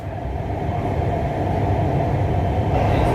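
A Lahore Orange Line metro train runs with a steady, loud rumble and hum heard from inside the carriage, with no break in the sound.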